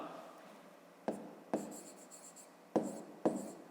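A pen writing by hand on paper for a grade 5 maths exercise, soft close scratching with several short bursts of strokes and taps, quiet and without speech.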